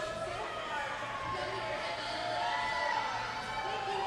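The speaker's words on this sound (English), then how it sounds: "And the crowd goes up for Pittsburgh." Arena crowd cheering and whooping for the Pittsburgh team during a consolation lap at a championship bout, a steady roar at moderate distance with shouts rising near the end.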